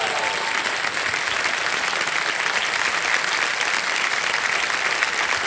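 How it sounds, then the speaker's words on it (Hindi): Studio audience on a Hindi quiz show, Kaun Banega Crorepati, bursts into loud, sustained applause, a dense steady wash of clapping that runs unbroken for several seconds. "तालियां बज जाए इनके लिए।"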